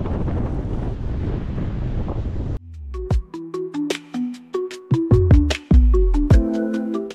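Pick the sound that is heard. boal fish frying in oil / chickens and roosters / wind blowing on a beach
wind blowing on a beach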